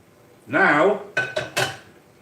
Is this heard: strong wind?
no